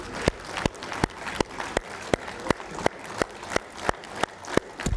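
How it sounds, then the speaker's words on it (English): A standing audience at a formal welcome address claps in slow, regular unison beats, about three per second, with sharp evenly spaced strikes over a murmuring crowd background. "Can we stand up for him and clap?"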